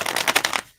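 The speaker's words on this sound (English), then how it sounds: "One more shuffle" A deck of playing cards riffle-shuffled in a quick, close burst of rapid flutter clicks lasting under a second, then silence.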